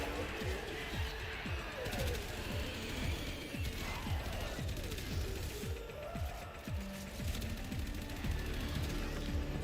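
A gun fires in the Warframe video game, rapid sharp shots in bursts with mechanical clanks throughout, close and layered over game effects and a busy soundtrack.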